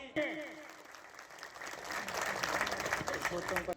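At a Foundation Day celebration of the JKNPP, a crowd breaks into a short burst of applause. The rather faint clapping swells in after a brief moment of other sound and stops abruptly.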